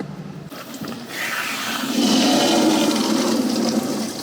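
Soapy water pours steadily into a container, a loud continuous rushing that swells and grows fuller after the first second.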